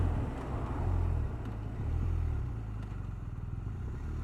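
BMW R1250R motorcycle, a 2019 model, cruising on a road with a steady low engine rumble and some wind, close and continuous throughout.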